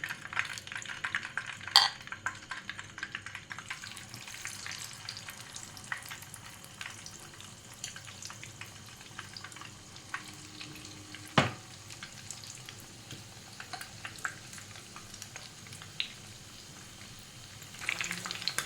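Chicken drumsticks fry in hot oil with a soft, steady sizzle and crackle, joined by a few faint clinks of a utensil against the pan.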